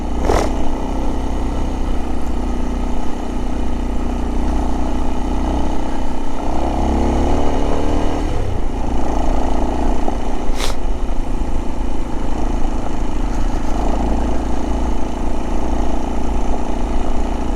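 A Kawasaki KLX 230 dirt bike engine drones steadily and loudly throughout, its pitch shifting slightly as the bike rides along a forest service road.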